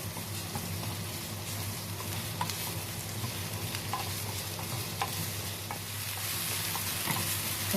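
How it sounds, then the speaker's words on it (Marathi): Flatbreads for a fasting platter frying in a pan, giving a continuous close sizzle with faint ticks and crackles throughout and no talk. "दोन ते तीन मिनटं आपल्याला या पोळी फ्राय करायच्या आहेत"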